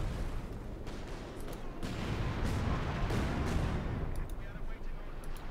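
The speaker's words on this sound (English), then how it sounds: "Artillery strike called in here" Artillery strike in a WWII strategy video game: a dense, sustained barrage of booming impacts and rumbling gunfire that swells in the middle, with sharper cracks near the end, all fairly distant and muffled.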